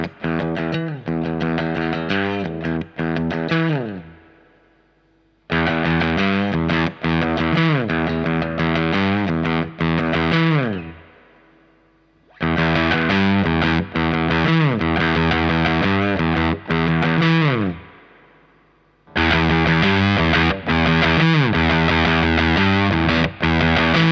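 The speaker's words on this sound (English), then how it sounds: "in a good fuzz pedal, you'll be able to go from a clean boost to a light to medium overdrive to full distortion to full on fuzz" Electric guitar played through a Boss FZ-1W Waza Craft fuzz pedal, thick saturated chords ringing in long sustained bursts separated by brief gaps where the notes decay, loud and close with no talking.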